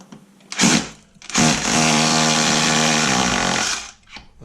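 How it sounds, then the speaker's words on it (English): A power drill boring 6mm holes for an IKEA KUNGSFORS knife magnet, with a short burst and then a sustained loud, steady whine of about two and a half seconds, close up. "Drill 2 6mm holes."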